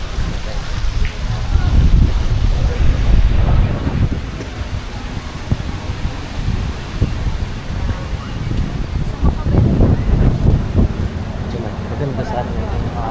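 Strong, cold wind buffeting the microphone on a white beach walk at Station 3, Boracay, a continuous low rumbling roar with gusts swelling and easing, and faint surf or background activity underneath.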